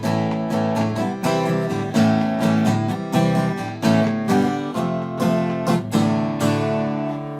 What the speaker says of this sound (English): So there's a really syncopated strumming section that comes in here.